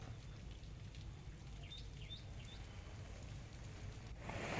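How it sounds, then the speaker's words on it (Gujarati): Light rain falls steadily after a long dry spell in Kalyanpur, Dwarka district, Gujarat, a soft continuous patter with a few faint bird chirps in the distance and a brief louder rustle near the end. "કલ્યાણપુર પંથકમાં લાંબા વિરામ બાદ ધીમી ધારે વરસાદ વરસ્યો"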